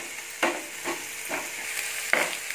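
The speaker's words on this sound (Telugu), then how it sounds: "నేను హై ఫ్లేమ్లో పెట్టుకున్నాను, పెట్టుకుని డీప్ ఫ్రై చేస్తున్నాను." Onions deep-fry with curry leaves on a high flame, a steady bubbling sizzle broken by several soft stirring scrapes spaced about half a second apart, with no voices.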